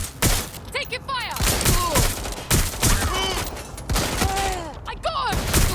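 Rapid bursts of gunfire from the video game Watch Dogs Legion, dense and loud across the whole stretch, with shouted voices breaking in between the shots.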